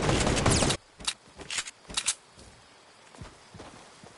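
Gunfire in a PS4 video game: a loud burst of rapid shots, then several short, fainter shot-like pops spaced out afterward.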